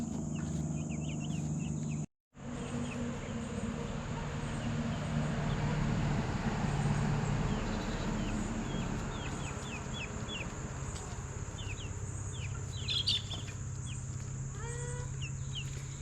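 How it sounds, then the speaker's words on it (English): Chickens cluck and chirp intermittently over a constant outdoor hiss, with brief bird-like calls scattered throughout and a short dropout near the start. "The little chickens outmaneuver them big chickens"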